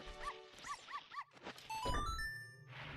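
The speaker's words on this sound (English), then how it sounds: "a classic puppy sound effect for the hover boots" A puppy-bark sound effect in an Ocarina of Time randomizer game yips four times in a quick, close, bright series, followed by chiming game tones.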